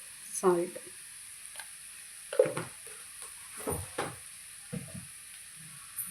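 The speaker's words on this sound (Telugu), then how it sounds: "ఫ్రై చేసేసుకుందాం ఫ్రెండ్స్." Carrot fry sizzles in a pan as a steady, soft hiss, broken by scattered clinks and scrapes of a spoon stirring the pieces.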